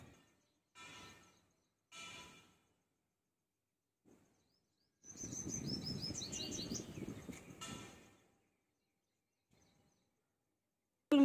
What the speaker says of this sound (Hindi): मेरे गार्डन में देखिए कितनी सुंदर सुंदर छोटी छोटी चिड़िया आने लगी हैं।